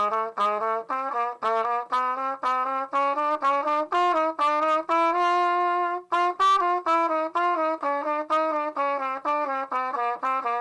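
A trumpet runs through a Mixolydian exercise with approach notes in jazz tonguing, a smooth, swung line of connected notes with soft attacks and one sustained note midway, heard solo and up close.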